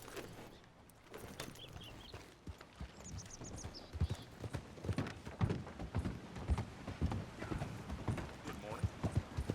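Steady clip-clop of horse hooves trotting along in Red Dead Redemption 2, close and rhythmic, with a brief whinny and some creaking, speech faintly mixed in.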